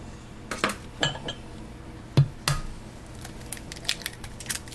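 Eggs going into sourdough pancake batter in a bowl, heard as a few sharp clinks and knocks of shell and utensil against the bowl, close and fairly quiet, spaced irregularly with soft handling noise between.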